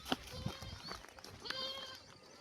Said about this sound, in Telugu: మేకలు మేపే విధానం చూడండి చూడండి ఎంతగా పారిపోతున్నాయో మేకలు